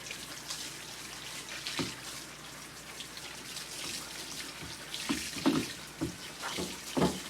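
Water runs through a wet brush while grooming a dog, a faint, close splashing trickle with irregular spatters and drips, no voices.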